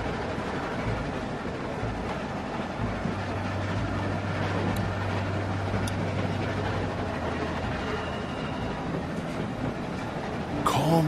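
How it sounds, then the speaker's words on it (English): A train in The Walking Dead video game runs with a continuous low rumble and rattle of rail cars, steady and moderately loud, with a faint hum underneath and a brief sharper clank at the end. "Stop the train."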